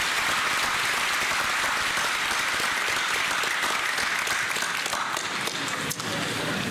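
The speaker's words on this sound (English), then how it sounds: "Let's give our graduates a round of applause." A large crowd at a college commencement ceremony applauds the graduates, a thick, sustained roar of clapping that holds steady for several seconds.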